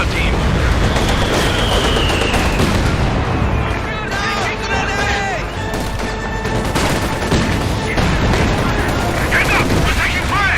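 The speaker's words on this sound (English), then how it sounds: "We're taking fire!" Battlefield combat in a war video game: dense, loud, continuous gunfire and booming explosions overlap throughout, with shouted voices mixed in.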